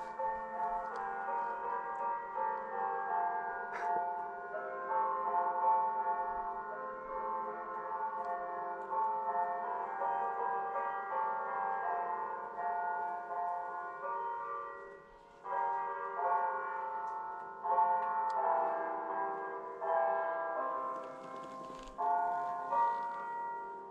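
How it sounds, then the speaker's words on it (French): Church bells ring out in a long, steady peal heard on a road trip through France and Spain, layered tones overlapping and continuing for over twenty seconds, fairly distant and moderately quiet. "Un concert de cloches."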